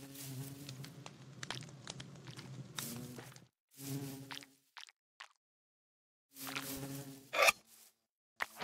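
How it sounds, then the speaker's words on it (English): Bees buzzing around a beehive in Minecraft with a campfire beneath it, a steady insect drone in bursts with short gaps and a few sharp clicks, nobody talking. "we didn't make the bees angry"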